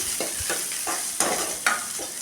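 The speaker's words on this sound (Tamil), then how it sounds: "நம்ம கட் பண்ணி வச்சுருக்க வெங்காயம் ஒரு மிளகாய் கொஞ்சம் கறிப்பில் போட்டுக்கலாம் நல்லா பொரிஞ்சிருச்சு எல்லாமே இதெல்லாம் நல்லா வதக்கி விட்டுக்கலாம்" Chopped onion, green chili and curry leaves sauté in hot oil in a pan, with a steady sizzle broken by a few sharp spoon scrapes and stirs, close up and with no voices.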